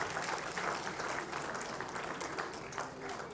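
An audience at a Hindi poetry festival in Hyderabad applauds to welcome a poet onto the stage, with steady, dense clapping from a crowd that carries on throughout.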